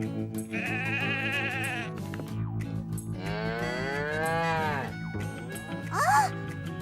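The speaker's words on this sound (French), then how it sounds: "Salut la vache." Two drawn-out cow moos close by, each a long wavering low call, followed by a brief higher animal cry.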